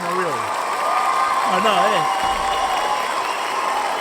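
Audience applause for a comedian at a New York comedy show, a steady wash of clapping and some cheering from a live crowd, with someone talking over it.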